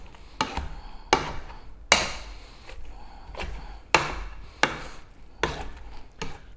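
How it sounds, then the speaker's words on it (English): Boiled, soft sweet potatoes are pressed with a potato masher in a pot, making repeated dull thumping knocks at an uneven, unhurried rhythm, close and fairly loud. "we're going to just mash them up"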